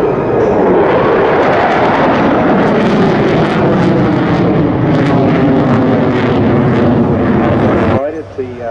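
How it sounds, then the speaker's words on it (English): Jet aircraft with reheat engaged pulls straight up into a vertical climb at the Bournemouth Air Festival air show, a loud, continuous, roaring thunder that fills the air for several seconds, then abruptly drops away near the end, with voices talking over it. "Reheat coming on again. Big G pull, directly vertical."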